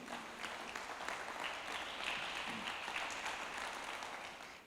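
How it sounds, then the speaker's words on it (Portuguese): A church congregation gives a round of applause for Jesus during a service, faint, steady clapping that sounds distant and continues evenly throughout. "Mais uma salva de palmas para Jesus?"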